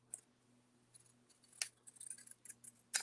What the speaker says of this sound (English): this is my big super 9-inch scissors